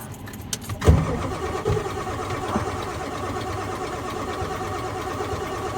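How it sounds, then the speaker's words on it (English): An OBS Ford 7.3 Powerstroke diesel truck fitted with a KC300X turbo and 160/30 injectors cranks briefly, then fires with a loud burst and settles into a steady, rough-edged idle. "Let's see if it'll start this time."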